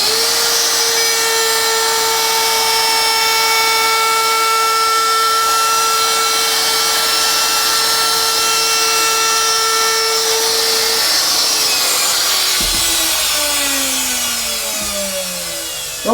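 A router freehand carves MDF, oak and plywood with a steady, loud high whine that holds for about ten seconds, then drops in pitch as the bit spins down near the end.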